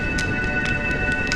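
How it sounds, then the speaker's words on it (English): Rain falls steadily in a video game scene, a close, even hiss of drops with a low rumbling wash beneath and a faint sustained tonal hum, uninterrupted by voices. "When will this rain ever stop?"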